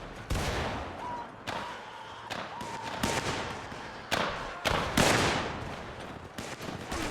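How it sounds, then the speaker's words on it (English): Cap and ball revolvers and other gunfire crack through an American Civil War battle in the Mount & Blade Warband game, with about eight loud, irregularly spaced shots over a busy battlefield din. "Use our cap and ball revolver here."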